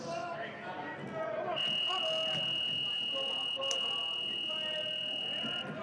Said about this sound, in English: Buzzer for the power play there.